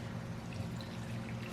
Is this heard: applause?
no